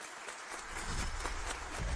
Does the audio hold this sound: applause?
yes